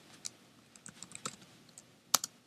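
Light, sparse clicks of keys on a computer keyboard while entering Java code in the Eclipse editor, scattered irregular taps with one sharper strike near the end, fairly faint and without talking.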